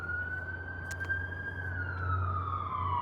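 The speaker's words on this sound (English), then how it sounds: "There's always an ambulance driving by." An ambulance siren wails past on a town street, a steady rising-and-falling tone that slowly drifts lower in pitch as it moves away, moderately distant, over a low idling engine hum.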